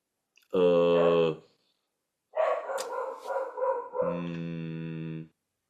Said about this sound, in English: Uh-oh, the dog's barking.